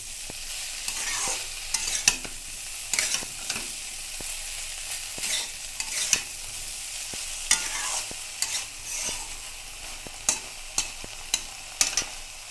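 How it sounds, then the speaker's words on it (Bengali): Taro stolons stir-fry in a pan on medium heat, a soft continuous sizzle broken by repeated scraping and clinking strokes of the spatula at an irregular pace, close and with no talk. "আঁচটাকে কিন্তু মিডিয়ামে রেখে কষিয়ে নিতে হবে।"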